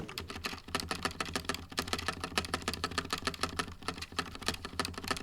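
Fast, steady typing on a Razer BlackWidow V4 Pro mechanical gaming keyboard, with dense, crisp key clacks in a quick rhythm, close up and alone.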